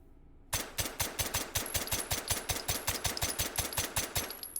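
A rapid string of suppressed gunshots fires in a steady rhythm, about twenty sharp, loud, close reports in quick succession after a short quiet start, with no talk.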